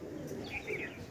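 Soft cooing and a few light chirps from pigeons inside a big loft, quiet and close, set against a low ambient murmur.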